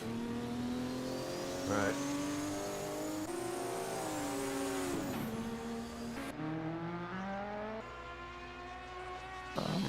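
1978 DRM race cars at the ADAC Bilstein Super Sprint roar past with continuous engine revving and rising, falling pitch through gear shifts, loud throughout while commentators talk over it.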